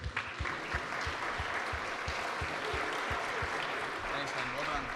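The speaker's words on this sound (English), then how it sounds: "Round of applause for him, everybody." Applause from a meeting audience follows a speaker, steady clapping with low thumping hits running under a voice.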